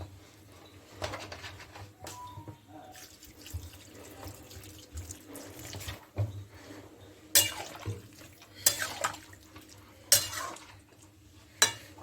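Water pours from a tap into a pan of drumsticks and masoor lentils cooking for charchari, a steady close splashing stream broken by a few clanks of pans and utensils.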